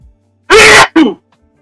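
A single loud sneeze at close range, a sharp burst followed by a brief second gasp-like tail, with silence around it during an art livestream.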